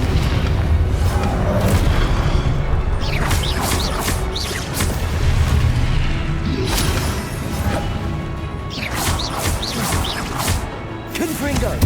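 Confringo spell blasts in Hogwarts Legacy, a run of loud booming impacts and crashes with whooshes in a busy fight, with voices talking over parts of the din.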